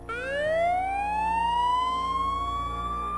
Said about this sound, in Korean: 그 사이렌 소리만 들어도 무섭기는 해